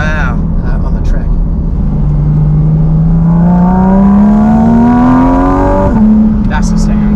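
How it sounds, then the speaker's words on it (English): A Porsche GT4 RS with a modified exhaust revs hard, its engine note climbing steadily in pitch, then dropping briefly and rising again, loud and close, with people talking under it. "Modified exhaust."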